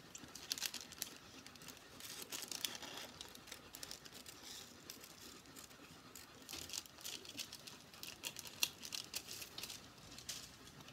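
Scissors cutting a paper piece for a blue tit craft model, making soft, close crinkling and snipping sounds in uneven bursts with no voice.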